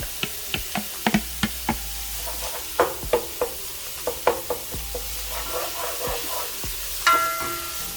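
Garlic and shadow beni go into a hot pan for a meatless Trini lo mein. A series of sharp utensil taps and knocks is followed by a gentle sizzle underneath, close and with no talk.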